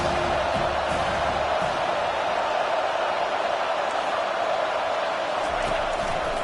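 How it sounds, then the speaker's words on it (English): Football stadium crowd roaring steadily in a broad, continuous wash of cheering that builds ahead of a second-down play, loud and sustained throughout with no clear talk on top. "this crowd is turning it up a notch"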